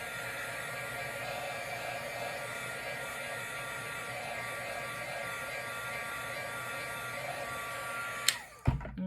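A hair dryer blows steadily to dry a handmade craft card, a constant close whirring hiss that ends with a clunk as it is switched off.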